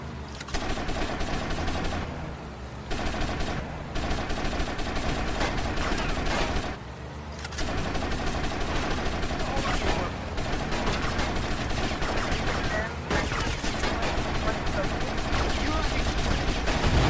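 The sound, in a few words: gunfire from a video game, Grand Theft Auto: Vice City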